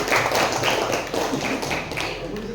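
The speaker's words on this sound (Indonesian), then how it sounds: "Oke, tepuk tangan dulu" Students at a school outreach session clapping their hands together in a loud, close, rhythmic burst of repeated claps.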